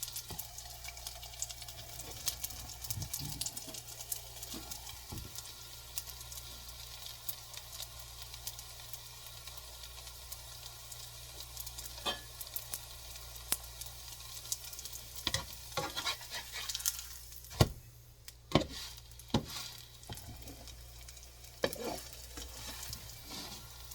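Raw stuffed flatbread dough frying in very hot oil, with a continuous close sizzle and crackle throughout and occasional scrapes and clicks of a utensil moving it in the pan.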